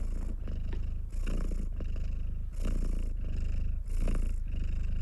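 A close, loud cat purr runs steadily in a rhythmic cycle of breaths, each lasting about a second with brief dips between them, and no voices over it.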